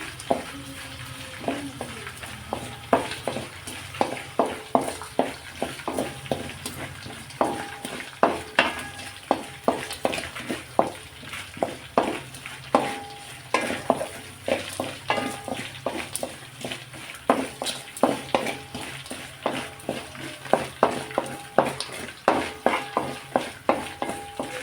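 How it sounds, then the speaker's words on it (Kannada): Grated fresh coconut roasting in a pan until brown, for a spicy poha tempering: a soft background sizzle punctuated by a steady run of rhythmic spatula scrapes and taps against the pan, close and continuous with no talking. "ಈ ಹಸಿಕಾಯಿ ಏನು ಮಾಡಬೇಕು ಅಂದರೆ ಬ್ರೌನ್ ಕಲರ್ ಬರಬೇಕು,"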